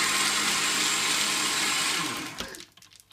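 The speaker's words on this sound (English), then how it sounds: "Turn on the blender." Blender whirring loudly as it mixes chocolate ice cream, milk and ice cubes into a milkshake, a steady motor whine that winds down and stops about two and a half seconds in.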